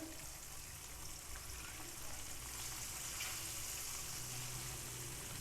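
Fish frying over a medium flame in a pan for a masala fish fry, giving a steady, close, even sizzle with a soft crackling hiss that runs throughout with no talk.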